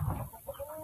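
Rhode Island Red hens clucking on a small farm as they are let out while eggs are collected, a few short low clucks close by and fairly soft, with no talking.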